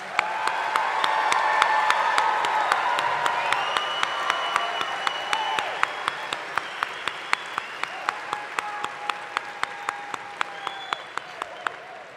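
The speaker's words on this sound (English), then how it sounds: "let's give our class of 2022 at McKinney Boyd High School one big round of applause" A large graduation crowd applauds the McKinney Boyd High School class of 2022, a dense sustained wash of clapping with cheering voices, steady and loud throughout, then thinning slightly toward the end.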